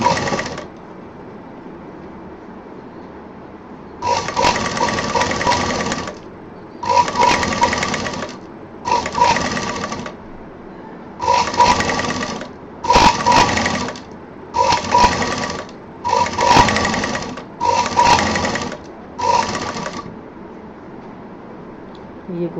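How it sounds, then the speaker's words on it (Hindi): A sewing machine stitches along fabric edges in ten separate bursts of whirring, rapid needle clatter, each lasting one to two seconds with short pauses between, close and clear with no talking. "बहुत बारीकी से किनारे किनारे सिल दें।"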